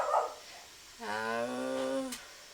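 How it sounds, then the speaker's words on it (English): A dog barks and whimpers in a drawn-out, rising-and-falling vocal burst, faint and somewhat distant in the background of an otherwise quiet room. "my dog's barking in the background"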